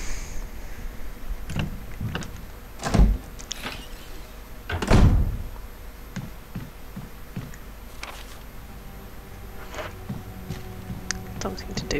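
In the Resident Evil Remaster video game, a door opens with a couple of heavy thunks and clunks. Ambient game sounds and a speaking voice run underneath.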